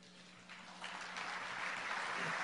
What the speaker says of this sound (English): It's fair to applaud for Charlie.